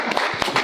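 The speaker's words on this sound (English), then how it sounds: "Red Mountain Football, clap it up, guys" Short burst of applause and clapping for the Red Mountain football team at a sports media day, the claps dense but fairly even in level, with faint voices mixed in.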